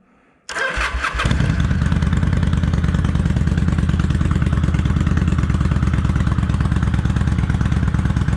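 A Kawasaki Vulcan 800 Classic motorcycle, lightly choked, cranks and fires up after a quiet moment, then settles into a loud, steady, close idle with a rapid throbbing pulse that continues to the end.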